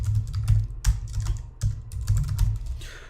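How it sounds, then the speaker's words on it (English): Fast, close typing on a computer keyboard at a Windows command line, a dense run of crisp key clicks and clacks with no talking. "So I'm just going to type in T-Shark,"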